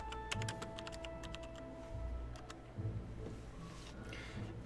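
Rapid, faint typing on a computer keyboard, with a quick run of light key clicks at the start, then sparser taps over a steady low hum.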